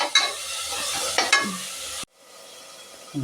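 Ground masala paste sizzles in a pan for vegetable pulao while a spoon stirs it, making close crackling and scraping strokes. The sound cuts abruptly and a quieter, softer sizzle follows.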